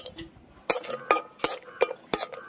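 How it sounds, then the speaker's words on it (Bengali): Dried lentil dumplings (bori) go into mustard oil in a kadai, with faint sizzling under a series of sharp metal clinks and scrapes of a utensil against the pan at a quiet, close range. "তাই আগে বড়িটা ভেজে নেব।"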